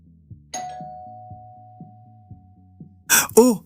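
A doorbell rings once with a sustained chime over a soft repeating thump, followed by a brief burst of voice at the end.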